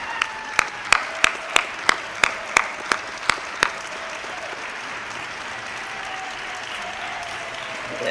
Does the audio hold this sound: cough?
no